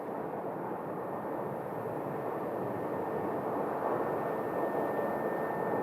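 An airliner arriving from Minneapolis lands at Phoenix airport, its engines a steady, broad roar that holds for several seconds and swells slightly toward the end, with no voices.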